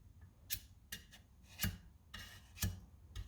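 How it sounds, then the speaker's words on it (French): Body filler putty being spread and scraped onto damaged mudguards, a series of short rasping strokes in an irregular rhythm, close and quiet, with faint pauses between passes. "on va mettre un coup de mastic pour revenir ça nickel"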